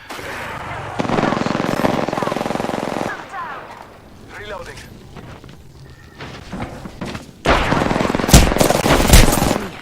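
Rapid automatic gunfire crackles through a shootout in the Apex Legends battle royale game, in long loud bursts separated by a quieter stretch of scattered shots and effects.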